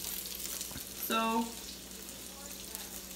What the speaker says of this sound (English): Making the some gyozas as well. Frying away.